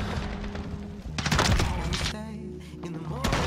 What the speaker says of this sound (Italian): Prenditi sta granata.